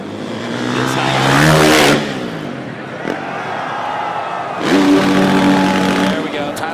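Dirt bike engine revving hard on a quarterpipe jump at the X Games in Minneapolis, two loud rising engine surges with a lull between, heard under commentators' voices and crowd noise.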